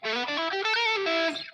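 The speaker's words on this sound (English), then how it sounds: "here's a little more distortion" Electric guitar played through added distortion, a sustained, saturated chord-and-note passage with a rich buzzing overtone stack, loud and continuous for about a second and a half, fading at the end.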